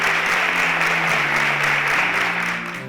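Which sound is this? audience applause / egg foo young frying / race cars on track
audience applause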